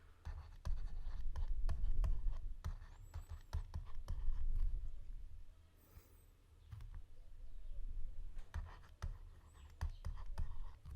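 Letters written by hand on paper, faint scratchy pen strokes coming in short bursts with brief pauses, quiet and close, with soft background noise.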